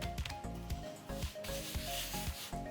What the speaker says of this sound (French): On peut même passer un petit coup de rouleau pour bien hop, souder